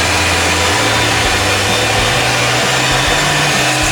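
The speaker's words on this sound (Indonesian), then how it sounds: "Kemudian langsung kita bilas menggunakan vakum ekstraktor" A water-spraying vacuum extractor rinses a jumbo plush doll, giving a loud, unbroken roaring whoosh of motor and suction that stays steady and close throughout.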